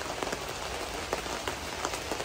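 Rain drums on the roof and walls of a trailer in Canada, a dense, steady patter of close drops with no voices.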